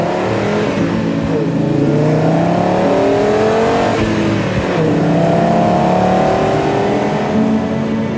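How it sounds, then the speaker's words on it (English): An Audi five-cylinder car engine revs loudly and repeatedly, its pitch sweeping up and down as it accelerates nearby, with a high whine over the roar. "Whenever a car like that is passing by, you hear this is a five-cylinder."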